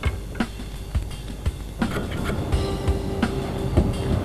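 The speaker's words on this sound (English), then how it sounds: "I'm just going to chisel out the centrepiece so that the tenon on the leg can fit inside." Mallet blows drive a chisel into wood to cut a mortise for a side table leg tenon in a furniture workshop, a steady series of close, dull knocks about every half second over a constant background hum.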